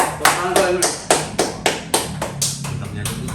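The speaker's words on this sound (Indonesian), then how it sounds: "Tepuk tangan lu." Several sharp, distinct hand claps in an uneven rhythm, close and fairly loud, followed by softer tapping, at an informal wind-band alumni reunion.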